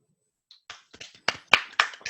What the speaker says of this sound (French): j'inviterai tout le monde à faire une bonne main d'applaudissements devant leur caméra à toute l'équipe